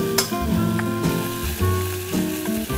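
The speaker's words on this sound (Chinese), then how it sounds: "所以你这边就随便煎一煎，破了也不用管它" Fish fillets pan-frying in a single pot in a small studio kitchen, a close, steady sizzle with light clinks of the pan and utensils.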